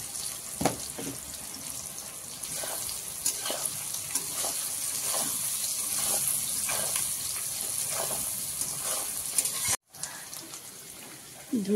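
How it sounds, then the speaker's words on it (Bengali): Onions sizzle steadily in oil in a pan while being fried until reddish, with occasional stirring scrapes over the continuous frying hiss, close by and moderately loud. "অল্প লাল লাল করে ভেজে নেব"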